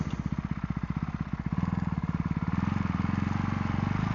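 A Ducati Hypermotard 698 motorcycle engine runs close by with a rapid, even single-cylinder pulsing that quickens slightly as it revs, with no voices over it.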